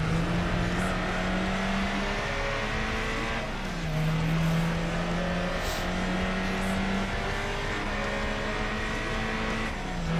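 A Renault Alpine race car in Gran Turismo 4, fitted with a turbo during a one-make Alpine Cup race, holds a steady high engine drone and drops pitch as it shifts down a gear.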